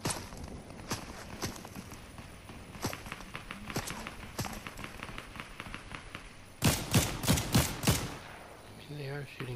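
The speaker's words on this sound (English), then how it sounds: "I mean, they are shooting at the AI" Fortnite gunfire crackles in scattered single shots, then bursts into a louder rapid volley of close, sharp reports near the end.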